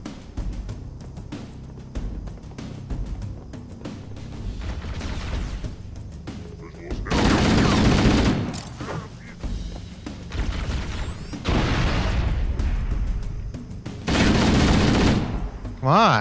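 Gunfire and grenade explosions in the video game Halo, with sustained volleys of shots and several loud, broad blasts, recurring in heavy bursts under faint talk.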